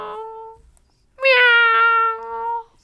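A cat gives two clear meows, a short one and then a longer drawn-out one with a small pause between them. Both are loud and close against a quiet background.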